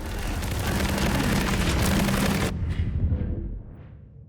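A dense roar of explosions and booming blasts in the video game The Expanse: Osiris Reborn fills the first half, then cuts off, leaving fading rumbles and echoing tails.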